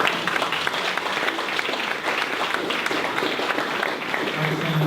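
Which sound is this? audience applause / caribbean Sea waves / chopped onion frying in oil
audience applause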